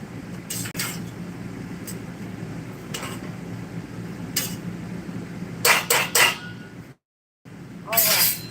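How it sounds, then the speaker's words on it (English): A spoon stirs homemade spaghetti sauce in a pot, with scattered light clinks and scrapes against the metal under a steady background hum, while a person talks between the strokes. "Just give this a little stir"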